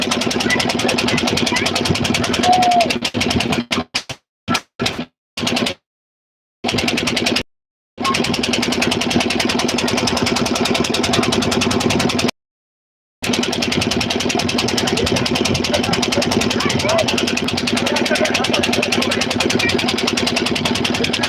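A motor boat's engine drones steadily and close by on a flooded river, a loud continuous hum broken by a few abrupt cut-outs.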